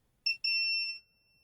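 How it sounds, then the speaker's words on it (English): A multimeter continuity tester beeps across an inductor on a Nintendo Switch board: a short chirp, a brief gap, then a sustained clear electronic tone lasting about half a second, close and alone. "we're hoping to hear a beep here if we go from one side of this to the other"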